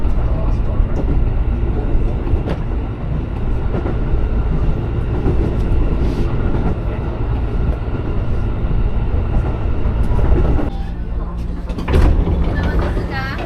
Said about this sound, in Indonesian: Kereta akan tiba di stasiun Magoa.